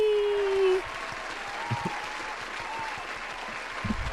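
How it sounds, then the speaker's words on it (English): A short burst of canned applause plays on a livestream, a steady wash of clapping under a brief tone at the start, fairly faint and continuing alone for a few seconds. "hit me with the applause, Megan?"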